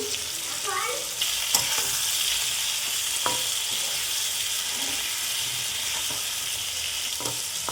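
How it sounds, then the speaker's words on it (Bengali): Tomato with salt and turmeric fries in a pan alongside bottle gourd, sizzling in a constant close hiss with a few sharp stirring clicks scattered through it. "দেখো আমি একটু ভেজে দিলাম"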